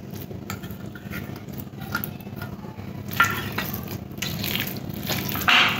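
Boiled potato and spinach bharta mashed by hand in a bowl with fried onions, giving soft squelching, pressing and occasional scraping against the dish, close and fairly quiet, no speech.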